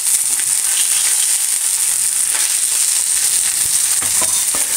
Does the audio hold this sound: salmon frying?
yes